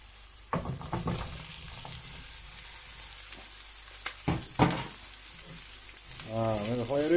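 Zucchini frying and being stirred in a small pan, with a steady close sizzle and a few scraping stirs and knocks, rising toward the end.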